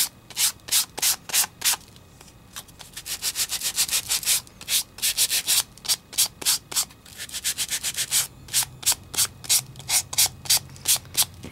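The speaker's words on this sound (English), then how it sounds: "now I'm going to take my Sand It gadget" A handheld Sand It gadget rubs over embossed adhesive paper in quick rhythmic scratchy strokes, a steady series of close, crisp sanding passes with a few faster runs, and no talking over it.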